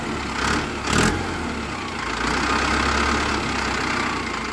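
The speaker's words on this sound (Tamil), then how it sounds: "இப்போ இன்ஜின் சவுண்ட் எப்படி இருக்குதுன்னு பாருங்கள்." A Mahindra Arjun 555 tractor's diesel engine idling steadily up close, a low chugging drone with a couple of brief louder revs near the start.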